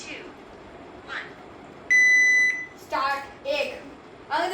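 One clean electronic timer beep, steady and fairly loud for about half a second, rings out at a family pani puri eating challenge. Short bursts of speech come before and after it.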